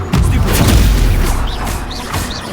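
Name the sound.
Incendio fire spell in video game Hogwarts Legacy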